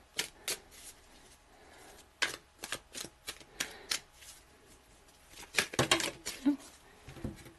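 A deck of tarot cards is shuffled and handled at close range during a Virgo reading, producing quick riffling bursts and soft taps in uneven clusters, fairly quiet in a still room with no voices.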